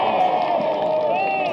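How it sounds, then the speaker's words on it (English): Golf gallery at the KLPGA KB Financial Group STAR Championship roars and cheers after a birdie, a dense sustained crowd swell with whoops throughout the short burst. "Let the roar of the crowd narrate that"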